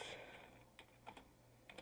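Letters typed on a computer keyboard, a handful of quiet, close keystrokes in an irregular cluster after a brief louder noise, with no talk.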